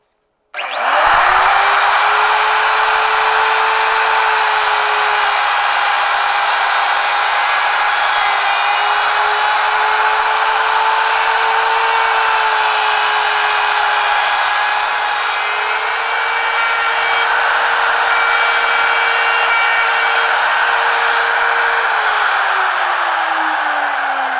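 A router spins up sharply and whines at a steady, high pitch for about twenty seconds while cutting a wooden box joint on a Peachtree dovetail jig, then winds down, loud and close with no voices.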